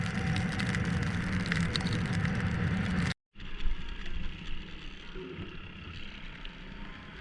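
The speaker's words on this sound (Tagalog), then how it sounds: "nabuta tayo ng ulan. Sama ng panahon ngayon dito hindi maganda" Steady rain pours down on a Honda Click 125i scooter ride from Manila to Ilocos Norte, a dense, constant hiss of drops and wind that cuts out briefly and then returns slightly thinner.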